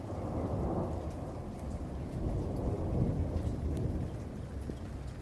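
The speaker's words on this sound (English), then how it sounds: "Ooh, thunder." Thunder rumbles steadily beneath continuous rain on a rainy day, a deep rolling roar that swells around the middle and holds for about five seconds, with no voices.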